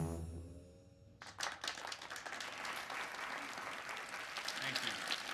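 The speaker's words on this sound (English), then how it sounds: "these people are giving Jason a standing ovation for spewing complete nonsense." A crowd rises into a standing ovation, dense clapping breaking out after a second of quieter, tonal sound and continuing steadily, mixed with crowd noise.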